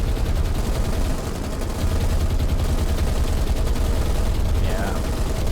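Aircraft dropping low to strafe ships with machine guns in the naval combat game War on the Sea, heard as a loud, dense, continuous rattle of rapid gunfire and blasts that fills the whole stretch without pause.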